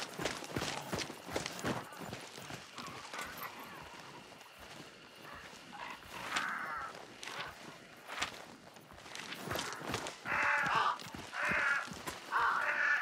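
Several crows cawing nearby outdoors, harsh caws recurring in bursts, the loudest toward the end, over soft footstep-like rustling and a quiet background.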